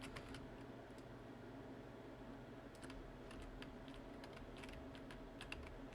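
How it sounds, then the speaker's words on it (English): Faint, steady typing on a computer keyboard as an email is written, with clusters of light, quick key taps over a constant low background hum, no voices. "whilst you finish typing out your email"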